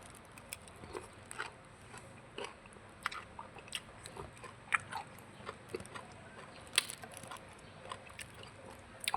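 Eating khao pun rice noodles with fish curry produces close, soft chewing and slurping with irregular wet clicks and small crunches, fairly quiet, with no speech.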